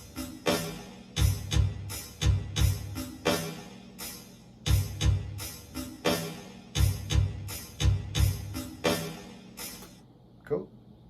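A drum loop from Logic, time-stretched to double length with Flex Tempophone, plays as a steady, punchy beat of repeated hits with a grainy, smeared texture, stopping near the end.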